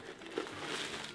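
Paper packed inside a handbag crinkles softly and closely as it is pulled out, a brief, faint rustle over quiet room noise.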